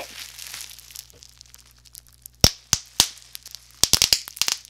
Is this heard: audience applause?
no